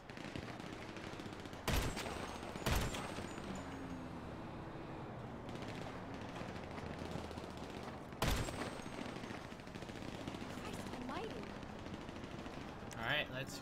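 Sniper rifle shots in GTA Online ring out as a few sharp, spaced cracks, one after another over a steady background bed of game ambience and distant noise.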